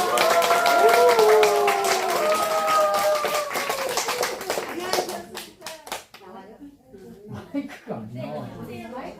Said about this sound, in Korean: 어르신들한테 공연 보여주시려고 오신 선생님들이 박수 한 번만 쳐주세요.